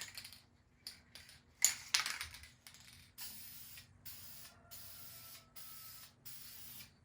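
Clear coat sprayed onto a car's under-hood area: a few short hissing bursts, then longer steady spray passes with brief gaps between light coats, close and fairly quiet, with no talking.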